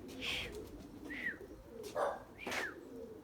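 Several soft pigeon calls and coos in short bursts, with a faint chirp, near and fairly quiet against a low background hum.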